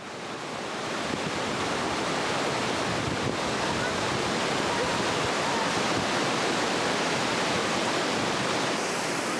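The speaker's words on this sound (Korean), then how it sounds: "하얀 눈보라를 일으키며 떨어지는 폭포 소리가 우렁찹니다." A roaring waterfall on a K2 base camp trek throws up spray in a dense, unbroken rush of white noise, loud and close, with wind buffeting the microphone.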